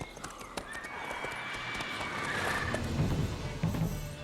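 Roach, a horse in the video game The Witcher 3, moving with soft clip-clop hoofbeats under a steady ambient bed and a faint tonal hum, the steps fairly quiet and slightly distant.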